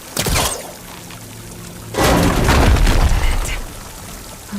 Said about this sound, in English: Water's coming from that vent.